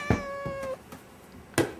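A house cat gives one clear, close meow with a falling tone, framed by short thumps and brief noise bursts, with no voices.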